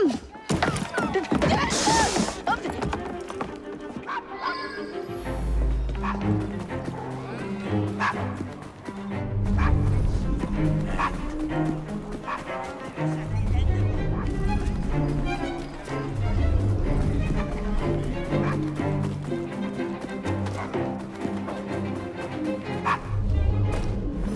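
A dog barks and yips repeatedly in Assassin's Creed Syndicate, set in Victorian London. The barks play over a continuous game soundscape and music for the whole stretch.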